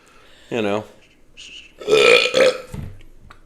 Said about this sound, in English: She burped.